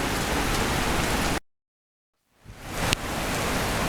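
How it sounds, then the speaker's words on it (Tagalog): Steady, dense rain hissing on a surface, cutting to silence for about a second before the downpour returns, with a brief sharp tap. "habang umuulan"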